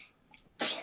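A single sharp sneeze bursts out after a brief quiet intake of breath, close and fairly loud.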